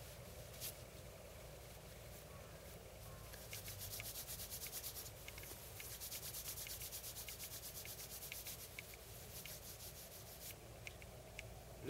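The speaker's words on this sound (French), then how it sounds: "Le visage, un petit peu le front, que l'on frotte verticalement et horizontalement" Hands rub the forehead and face during a Do In self-massage, brushing vertically and horizontally. The result is a close, continuous, soft friction and rubbing sound, steady and fairly quiet, with no voice over it.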